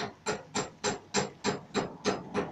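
A rounding hammer striking hot steel on an anvil to put veins into a forged leaf: about eight evenly spaced, sharp metallic blows in a steady rhythm, close and clear.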